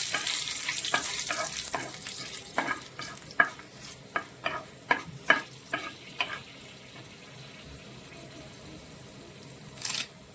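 Dried red chillies and fenugreek seeds fry in hot oil for a Kerala lemon pickle, a faint steady sizzle broken by a run of sharp clicks and scrapes as a spoon stirs the pan, with no one talking.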